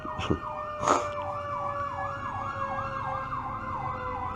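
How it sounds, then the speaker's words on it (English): A siren wails steadily in the distance, its pitch sweeping up and down in a repeating cycle, with a couple of brief knocks near the start. "There's always a siren."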